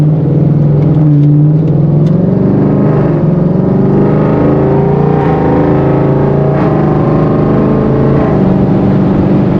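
A Ford Mustang Foxbody with a Coyote engine swap makes drag runs on an open road, its V8 roaring loud and steady with rising and falling revs across the whole stretch.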